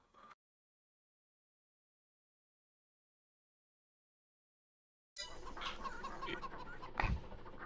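Farm poultry such as chickens and ducks in Farming Simulator 22 cluck and chatter close by after a long silence, with a busy stream of bird calls and one sharper, louder burst near the end.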